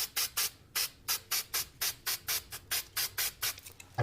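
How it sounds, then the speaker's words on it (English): Short hissing bursts of spray adhesive from an aerosol can, about a dozen quick puffs in a steady rhythm, close and fairly loud. "I'm going to use my spray adhesive"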